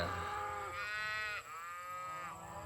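Cattle being moved across a hillside pasture low loudly, with two or three long, drawn-out moos in quick succession, close and clear over faint outdoor background noise.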